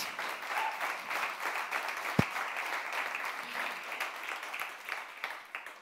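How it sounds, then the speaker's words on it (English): Audience applause after a pitch presentation at a livestreamed Solve for Tomorrow final, a steady wash of clapping lasting several seconds with one sharper bang near the middle. "A big applause for Ingrid."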